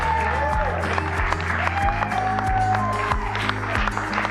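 Wedding guests clap and cheer under loud background music with a thumping beat, the applause steady throughout.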